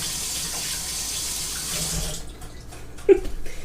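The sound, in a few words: running tap water, washing something off in sink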